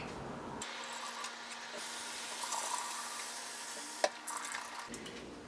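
Tap water runs steadily into a sink, rinsing canned garbanzo beans in a colander, a close, even hiss that starts and stops abruptly, with a brief knock near the end and no talk.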